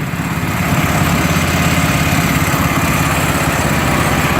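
A snowblower engine idles steadily after the throttle is pushed in, a loud, even mechanical rumble with a fast pulsing beat, close by and alone.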